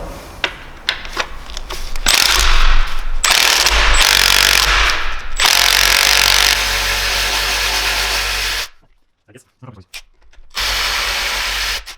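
A power tool spins a socket on a rounded bolt during BMW S54 engine disassembly, giving loud bursts of whirring and rattling that break off into a short pause and then resume.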